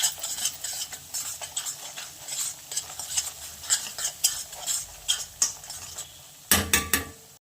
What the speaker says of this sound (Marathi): ढवळून घ्यायचं.